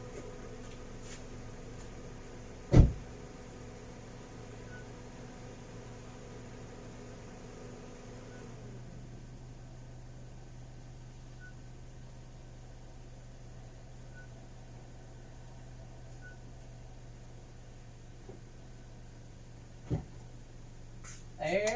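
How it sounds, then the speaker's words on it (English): Electric fan running steadily as a low, constant hum with a faint tonal whine, heard close throughout alongside a couple of sharp clicks. The tone shifts partway through. "Oh, shut up, fan."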